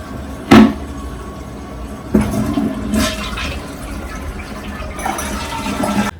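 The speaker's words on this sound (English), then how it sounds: "Yes, my toilet runs all the time." A constantly running toilet, water rushing and gurgling close by, with a sharp splash early on and softer swells of running water over the following seconds.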